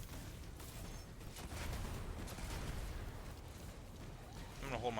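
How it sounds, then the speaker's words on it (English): Scorch cannon shots fired in the Destiny video game during the Grasp of Avarice dungeon, a dense rolling series of booming blasts and explosions over a continuous low rumble. "Scorch cannons don't do self damage, so you can shoot at your own feet."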